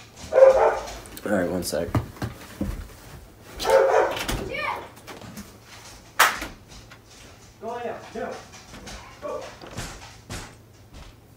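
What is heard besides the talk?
dog barking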